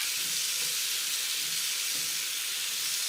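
Potatoes hit hot oil with white cumin and coriander in a pan, giving a steady, loud, close sizzling hiss that runs unbroken throughout.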